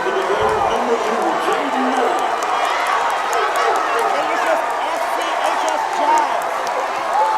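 Gator fans cheer at a Farmville Central versus Martin County basketball game as a dense, loud, continuous crowd roar, with a commentator talking over the noise.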